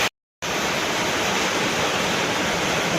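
Heavy rain pours down in a steady, dense hiss, loud and close, starting abruptly after a brief moment of silence and continuing unbroken with no voices.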